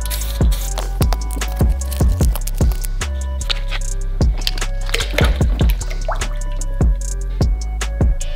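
A 3D-printed TPU phone case is dipped into a bucket of water, then drips steadily: a series of distinct, close drops and small splashes falling at irregular intervals, with no talking.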